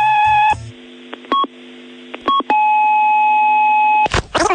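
An answering machine's beeps and tones sound loudly in close succession, with several short bleeps followed by a long steady tone and a brief burst of noise at the end.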